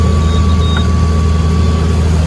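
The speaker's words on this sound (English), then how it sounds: "our alarm goes off alerting us there's a vessel near us" A boat's proximity alarm warns of a nearby vessel while cruising near a buddy boat, a steady electronic tone held over continuous engine rumble throughout.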